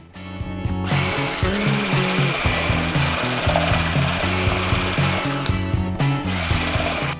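An electric whisk mixing pancake batter with milk whirs steadily and loudly for several seconds, starting and stopping abruptly, with a rattling, buzzing drone.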